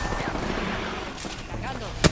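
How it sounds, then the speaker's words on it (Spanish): Video game gunfire as enemies shoot at the player: a dense, continuous rattle of shots under game noise, ending in a sharp loud burst near the close. "Me están disparando."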